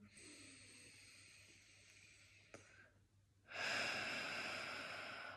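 Slow, deep breaths during a guided relaxation exercise, a long steady exhale-like hiss followed by a louder, fuller inhalation near the end, close and alone with no talk.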